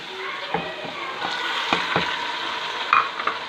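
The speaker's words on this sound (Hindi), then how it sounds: "इसको अच्छे से फ्राई कर लेंगे" Tomatoes sizzling in a hot pan with fried ginger and garlic while a spoon scrapes and stirs them, with occasional knocks against the pan, close and steady.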